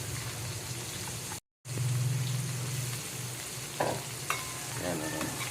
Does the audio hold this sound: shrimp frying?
yes